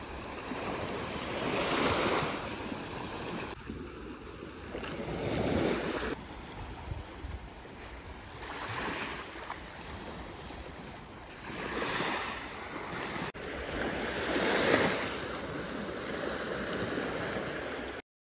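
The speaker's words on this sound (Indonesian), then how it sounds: "Ini dia pantai yang ada di Pulau Lengkuas." Ocean waves wash onto the beach at Lengkuas Island in repeated surging swells, loud and near with wind buffeting the microphone between crests.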